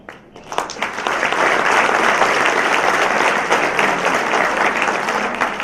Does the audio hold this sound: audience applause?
yes